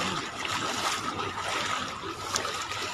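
Strong floodwater waves surge and churn in Marilao, Bulacan, a rough, broadband rushing and splashing that stays loud and close throughout without pause.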